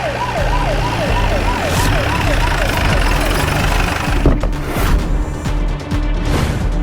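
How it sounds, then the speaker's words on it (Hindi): A wailing police siren sweeps up and down in a busy street scene from a Hindi drama, loud and close over crowd noise, then fades into commotion and shuffling. "तभी वहां सबको एक पुलिस सायरन सुनाई दी"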